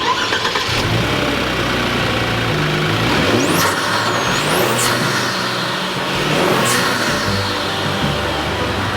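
Kia Stinger GTS twin-turbo engine started and revved with a new improved intake, a loud steady close rumble with rising and falling rev sweeps and whooshing turbo swells over several seconds.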